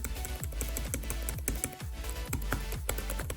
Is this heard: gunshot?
no